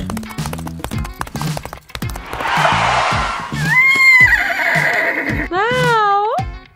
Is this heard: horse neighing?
yes